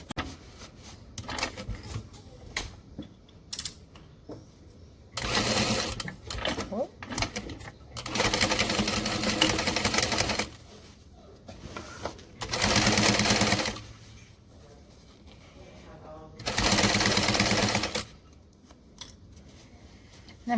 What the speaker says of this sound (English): Then we're just top stitching this shut.